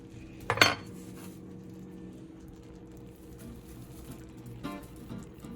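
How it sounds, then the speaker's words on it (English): A fork scrapes and clinks against a pot while cooked rice is fluffed, with one brief, sharp metallic clatter near the start and a fainter rattle near the end over a low background hum; no one speaks. "So just fluff it out with the fork."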